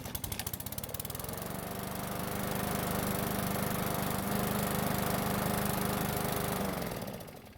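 A hot Craftsman lawn mower engine catches and runs, its loud, steady mid-pitched drone holding evenly for several seconds before dying away at the end, with no talk.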